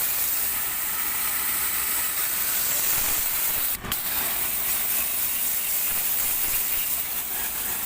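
A steady, loud hissing water spray blasts through an air conditioner from the inside during cleaning, continuous close-up jet noise with one brief interruption partway through.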